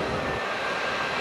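An F/A-18F Super Hornet jet roars past at an air show, a loud, continuous broadband engine rush with no voices over it.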